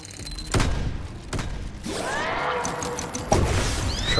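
Heavy thuds and booming impacts in Dome Keeper, several sharp blasts spread across the stretch, with a swirling sweep of shockwave energy between them, loud and close.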